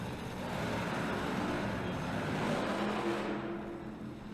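The Hot Wheels Bone Shaker monster truck roars at a live arena show in Albany, NY, its engine a loud, sustained drone that swells and then fades toward the end.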